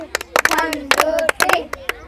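Players clap hands in rhythm during a recreational ball relay game, sharp close claps falling in repeated groups of three while a voice speaks over them.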